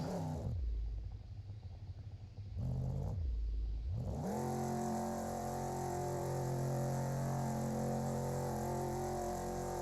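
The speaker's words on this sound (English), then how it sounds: "You can hear him feathering the throttle." A race car engine in the Wreckfest racing game drones loud and steady, with the driver feathering the throttle in short on-off bursts early before holding a continuous high rev.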